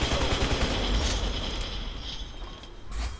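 Dense, sustained gunfire from the Battlefield Hardline video game, rapid overlapping shots and bursts filling the whole stretch at steady loudness with a short lull near the end.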